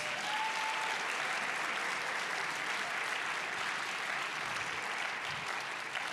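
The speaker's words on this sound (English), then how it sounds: "can the learners give their parents a round of applause?" An audience at a college prize-giving claps steadily and loudly from start to finish, a dense, even wash of applause with no pauses.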